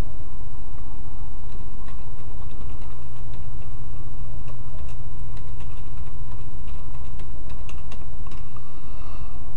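Steady, close typing on a computer keyboard, a fast run of small clicks laid over a constant low machine hum, with no voices.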